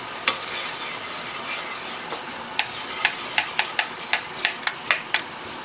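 Bombay potato mix stirred into frying onions in a pan, a steady sizzle under a run of regular sharp spoon taps and scrapes against the pan that grow more frequent toward the end.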